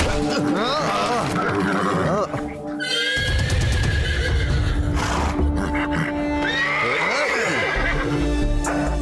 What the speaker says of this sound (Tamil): ஏதோ ஒரு காட்டு குதிரைக்கு பிரச்சனைன்னு நினைக்கிறேன்.